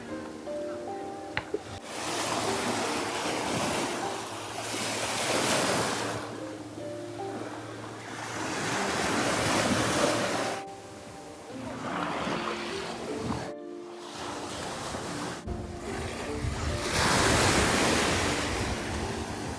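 Waves break and wash ashore on a black sand beach on Vulcano island, surging in repeated swells with wind noise over the microphone and a brief pause midway.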